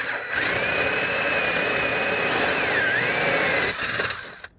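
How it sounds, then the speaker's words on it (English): Power drill boring into the pop-top roof of a VW T5 camper, a loud sustained whine with a steady pitch that wavers briefly near the end before stopping abruptly. "Drilling into a pop top,"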